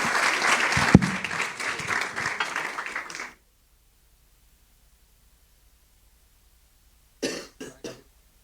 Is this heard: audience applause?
yes